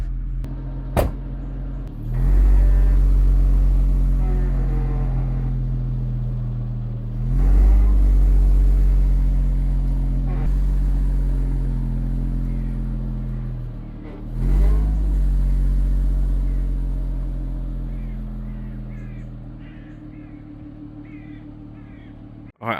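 A £420 classic Jaguar XJS is driven, its engine humming loud and close, swelling in three separate revving pushes that each settle back to a steady drone.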